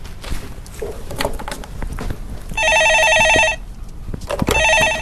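A telephone rings in two electronic trilling bursts in a call-in stock market show studio, loud and close, with faint background shuffling.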